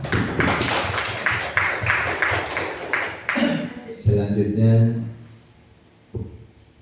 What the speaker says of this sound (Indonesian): Mari kita buka dengan tepuk tangan